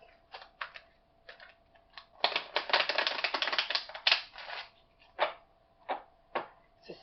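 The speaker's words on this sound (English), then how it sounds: "Shuffle up." Crisp bursts of tarot card shuffling, a few short riffles, then a dense rapid flurry, followed by scattered single taps and snaps, close and fairly quiet.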